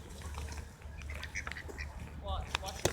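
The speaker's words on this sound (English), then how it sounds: "They might have white feathers, but they're black ducks." Several black ducks quack repeatedly at close range, their calls overlapping with other bird sounds while people talk nearby.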